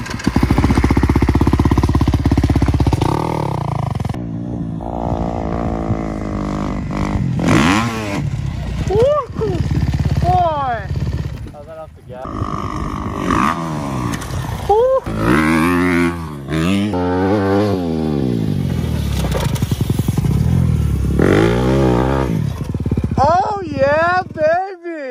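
Dirt bike engine riding hilly terrain, loud and close throughout, revving up and down with rising and falling pitch sweeps as the throttle opens and the clutch is worked.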